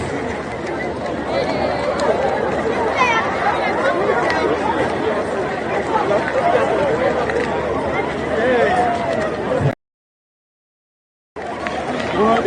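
A massive crowd gathered for PVC voter card registration at the old parade ground in Abuja, Nigeria, a loud steady babble of many voices and chatter close around, cut off briefly by a short gap of silence near the end.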